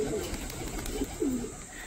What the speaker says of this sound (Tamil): இது வந்து ஒரு ட்ரீம் புறாவாக இருந்துச்சு.